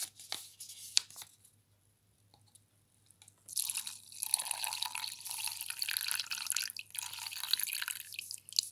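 Liquid from a face mask product pours and drips out of its container, quiet at first and then a sustained wet splashing trickle for the last five seconds.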